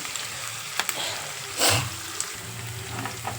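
Onion fries in a pan with a steady low sizzle, broken by a few spoon clicks and one louder scraping stir in the middle, close up and without speech.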